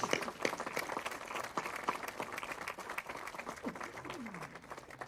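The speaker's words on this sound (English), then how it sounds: "a round of applause for her" Applause from an audience at a press conference naming the 2025 Grand Marshal of the César Chávez march, a moderate steady patter of clapping that carries on throughout.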